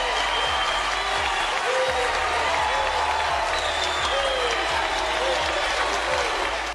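An audience applauds Nelson Mandela with sustained, dense clapping that fills the whole stretch evenly, with crowd noise mixed in and a voice speaking over it.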